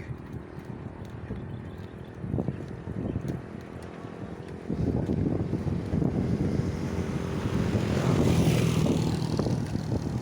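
Strong wind blowing across an open farm field, a steady low rumbling roar buffeting the microphone that grows louder and gustier in the second half, with no voices.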